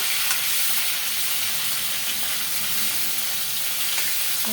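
Fish head frying in hot oil, giving a dense, continuous loud sizzle and hiss that stays steady throughout with a few faint pops.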